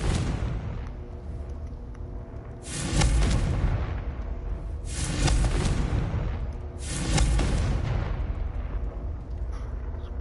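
Three loud booming blasts from the Confringo explosive spell in the Hogwarts Legacy video game, each burst spaced about two seconds apart over a continuous rumbling game background.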